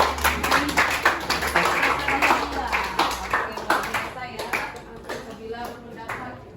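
A classroom of students clapping hands together, uneven individual claps with a sharp, close quality that thin out and soften toward the end, with voices underneath.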